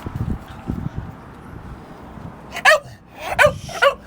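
A dog whines and gives short barks while waiting for a treat at home, faint low whimpers early on, then three sharp, close yips near the end with no talking.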